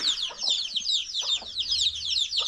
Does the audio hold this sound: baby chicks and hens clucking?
yes